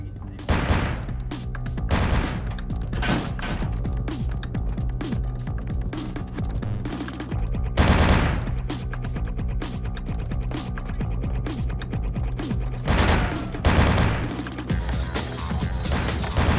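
Dense, loud gunfire fills the game Vampire The Masquerade: Bloodlines, with steady bursts and repeated heavier blasts that sound like crashes, continuous through the whole stretch.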